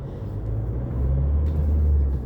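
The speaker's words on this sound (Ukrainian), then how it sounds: "О, ОБСЄ он машина поїхала" A passing OSCE car on a road, with a low engine rumble that swells as the vehicle draws closer and stays heavy at its loudest near the end, heard alone without talk.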